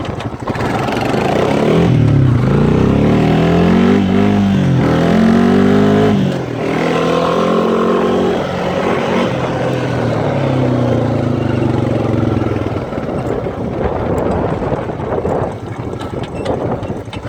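Quad ATV engine revving loudly and steadily up close, its pitch rising and falling as it shifts into first gear and climbs a hill, continuous throughout with no talk.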